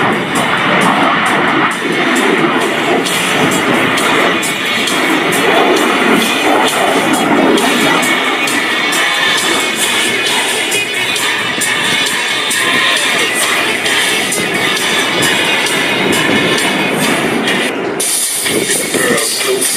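A CF-18 Hornet fighter jet rolling at an airshow, a loud continuous engine roar with rising and falling rumble as it passes, crowd faintly beneath.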